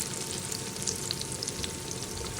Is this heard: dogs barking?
no